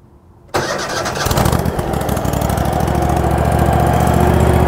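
Engine of a Grand LX hydraulic valve exercising machine starting abruptly after a quiet moment, then settling into a steady, loud, close idle with a rapid regular throb.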